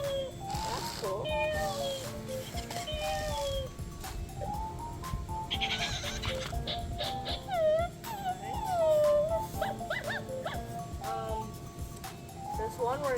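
An Intellipup robot puppy toy imitates a cat with a series of electronic meows, several short repeated calls, alongside faint background voices.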